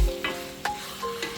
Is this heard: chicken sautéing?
yes